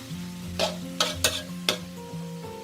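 Four sharp metallic scrapes of a utensil against a wok while stir-frying mee sua noodles, over a steady low sizzle and hum, no talking.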